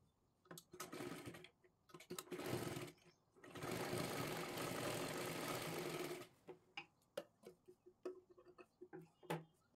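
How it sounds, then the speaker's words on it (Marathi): A sewing machine stitches a blouse in close, steady bursts: short runs, a longer continuous run in the middle, then scattered clicks and brief whirs. "आता इथे आपण शिलाई मारून घेऊया"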